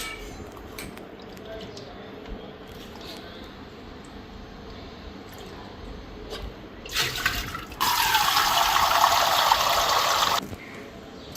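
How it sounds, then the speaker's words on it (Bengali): Dried fish rinsed under running water in a home kitchen sink, a soft trickle swelling into a loud steady gush of tap water for a few seconds, then cutting off. "তো শুটকিটা এখন ভালো করে ধুয়ে নিই।"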